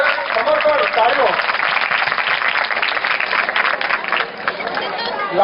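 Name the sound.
audience clapping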